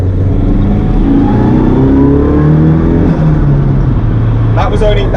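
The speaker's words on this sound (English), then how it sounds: "a little bit of turbo noises. I think we're warmed up now." An SR20DET turbo engine in a Datsun mini truck revving, a loud continuous drone with rising and falling whirring tones and a brief sharp burst near the end.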